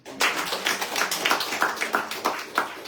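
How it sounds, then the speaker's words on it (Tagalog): Sunday service congregation clapping together, a close, fairly rhythmic burst of hand claps starting abruptly and continuing at a lively pace, loud and distinct with no talking. "Sang palakpak mga kapatid."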